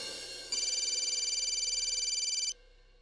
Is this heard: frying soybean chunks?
no